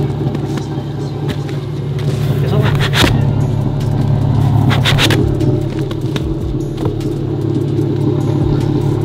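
Car engine idling after a cold start with a homemade exhaust silencer pushed into the tailpipe tips, giving a steady low rumble close by, with brief scraping and clattering noises over it.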